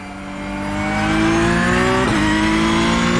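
A Porsche 911 GT3 Cup 992 race car engine in a racing video game howls loud and close, pitch climbing through the revs with a brief dip for a subtle gear change, then pulling on, no talk.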